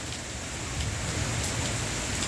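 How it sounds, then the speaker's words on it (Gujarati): Steady monsoon rain pouring down on farmland, a dense continuous hiss of drops striking surfaces, fairly close and even throughout. "સારામાં સારી જેને વાવણી કહેવાય એવો વરસાદ"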